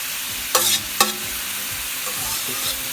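Bamboo shoot salad stir-fries in a pan with a steady sizzle, punctuated by a couple of sharp metallic scrapes or clanks of a utensil against the pan.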